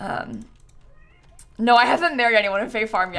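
A pet cat meows repeatedly in a room, its drawn-out cries overlapping a person talking, with faint keyboard typing beneath.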